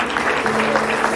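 A church congregation at a convergence gathering breaks into applause, a loud, dense, continuous patter of clapping hands with a low steady hum underneath.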